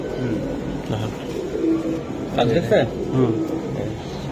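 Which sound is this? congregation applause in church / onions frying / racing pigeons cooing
racing pigeons cooing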